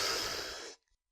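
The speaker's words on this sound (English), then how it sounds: "And take a deep breath" A single deep inhale through the nose during a guided breathing exercise, close and airy, lasting under a second before cutting to silence.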